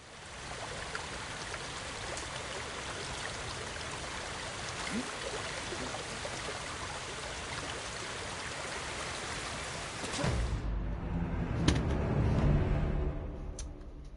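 A video game waterfall's rushing water pours continuously for about ten seconds, then cuts to a heavier, lower roar with a few splashes.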